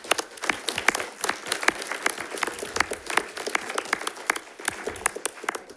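A small audience at a school district board meeting claps for students, a sparse round of distinct individual claps with audible separate hand strikes, moderately close and continuing for several seconds without talk.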